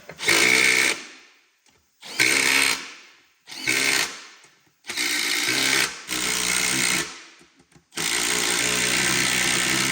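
A power tool drives beadlock studs into an American Force wheel rim on a first-generation Cummins truck, loud close bursts of whirring in five or six runs with short pauses between, the last run continuing steadily.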